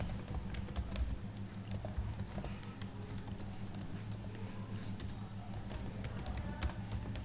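Keys tapped on a computer keyboard while working through accounting software menus, a steady stream of soft clicks over a constant low hum for the whole stretch.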